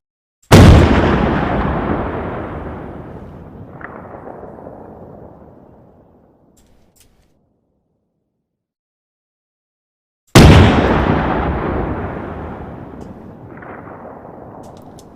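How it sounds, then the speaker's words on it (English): Two loud, booming shots from a WW2 anti-aircraft gun on a vehicle in the Arma 3 game, each a sharp blast followed by a long rolling decay, spaced about ten seconds apart, with no talk. "It's basically the same gun, but this is the anti-air version to where you could raise your sights"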